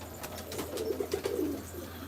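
Pigeons at a rooftop coop give soft, low cooing over a steady background hum, faint and moderately close, with a few brief flutters.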